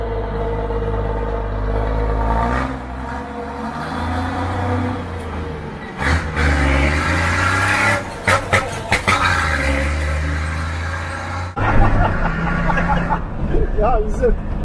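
An old Ford 1210 D truck engine revs up and down with throttle blips between shifts, a loud, close diesel rumble over steady low drone, with people talking over it throughout.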